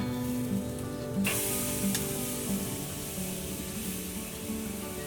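Pork tenderloin sizzles steadily on a PK Grill, a continuous close hiss with a brief scrape or flip noise partway through and a low background hum.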